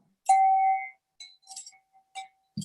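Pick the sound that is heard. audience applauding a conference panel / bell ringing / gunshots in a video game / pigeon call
bell ringing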